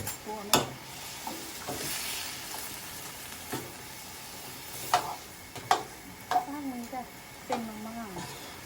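Mama instant noodles stir-fried with egg in a pan, a steady broadband sizzle with sharp spatula scrapes and clacks at irregular intervals, while people talk over the cooking.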